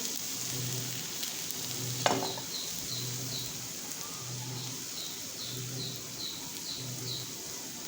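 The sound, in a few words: raw potato snack frying on a tawa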